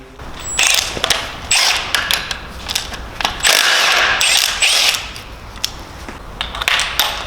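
Bolts being undone on the accessory pulley of a BMW S54 inline-six engine during disassembly, heard as a run of close, loud metallic ratchet clicks and creaking tool bursts with short pauses between.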